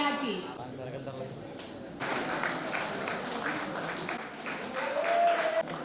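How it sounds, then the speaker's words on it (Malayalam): An audience claps for high-achieving students at a felicitation ceremony at Panjal Government Higher Secondary School. Broad, steady applause starts partway through and carries on under a speaking voice in a reverberant hall. "പ്രത്യേക കൈയടി തന്നെ കൊടുക്കണം"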